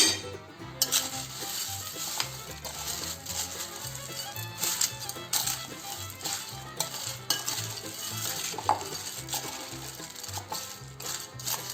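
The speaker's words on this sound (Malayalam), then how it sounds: "എന്നിട്ട് നമുക്കിത് നന്നായിട്ട് യോജിപ്പിക്കാം" A spoon stirs cornflakes chaat through lemon juice in a bowl, giving a steady run of crisp, crunchy scraping and clinking close up, with no voices.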